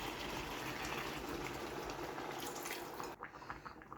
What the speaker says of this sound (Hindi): और हाफ कप पानी इसमें ऐड करूंगी